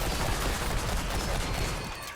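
Rapid volleys of gunfire from western-style guns in the video game Remnant 2, dense overlapping shots in a continuous loud burst with no pause, close and unbroken.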